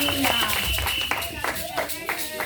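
A church congregation claps and cheers in praise of God. The rhythmic clapping is mixed with voices and tuneful singing throughout.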